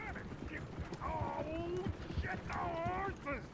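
Horse hooves clip-clop in the Red Dead Redemption II video game, a steady rhythmic trot heard close and continuous under people talking.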